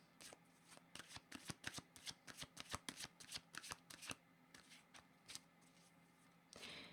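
A deck of cards is shuffled in a quick series of riffling flutters and snaps, several bursts in a row up close, followed by a brief soft rustle at the end.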